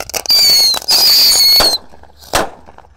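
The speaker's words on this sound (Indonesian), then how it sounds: "Kita nyalakan di dalam toples guys." Firecrackers lit inside a jar for New Year 2025 bursting in a loud crackling, whistling rush lasting over a second, then a short gap and a single sharp pop, up close.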